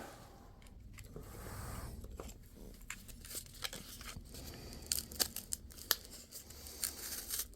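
Cured expanding polyurethane pour foam, an RC boat flotation block, being cut with a blade or scissors: close, dry crunching and tearing, then a run of sharp crisp snips in quick succession near the end.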